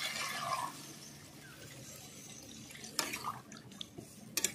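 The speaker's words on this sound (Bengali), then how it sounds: "জল দিয়ে দেবো এবার।" Water is poured into a pot of fish curry made with rui fish, drumsticks and green chilli, a brief watery splash and trickle close by, with a few sharper clinks near the end and no talking.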